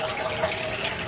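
Tap water running through a screen printing screen to rinse out emulsion remover, a steady close splashing and gushing flow with no talk.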